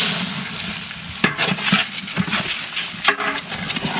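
Cashews, raisins and marinated rice stirred in a hot pan for chicken polao, a steady sizzle broken by scraping, clattering stirs at intervals, close and alone.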